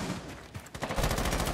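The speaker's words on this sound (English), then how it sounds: "Lots of early gunfire going down." Gunfire in the tactical shooter Rainbow Six Siege during an esports match, rapid automatic bursts that start sparse and build into dense, continuous shooting, loud and close.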